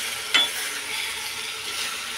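Pieces of eggplant and tomato with a little coriander sizzle and simmer steadily in a pan, giving a constant soft hiss with one brief brighter clink near the start.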